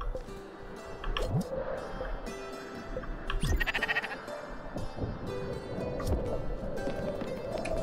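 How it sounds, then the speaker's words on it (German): Sheep bleat now and then in the video game Spiritfarer, over a busy bed of water and ambient game sounds, with a few scattered bleats across the stretch and no speech. "Nur ein Schaf."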